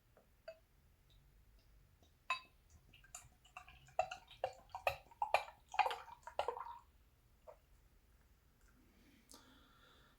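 Beer poured into a glass for a tasting of O/O Brewing 300 Crystal, a thick, viscous brew, gives a run of close glugging, splashing liquid bursts that swell and taper over several seconds, with no talk.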